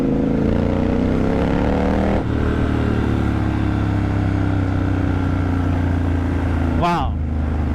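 A Triumph Scrambler 1200 motorcycle idles with a loud, deep exhaust rumble, then its revs drop slightly and hold steady before a brief sharp throttle blip near the end.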